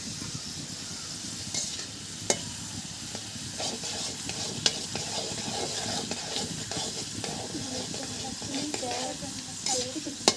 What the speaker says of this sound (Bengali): তো আলুটা ভাজবো, দেখি কেমন হয়। এমনভাবে নাড়তে হবে। তো এটা ভেজে নিচ্ছি।